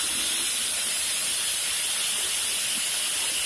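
Mixed hot and cold water pours steadily into a plumbing fixture, a constant loud hiss and rush with no breaks and no talking.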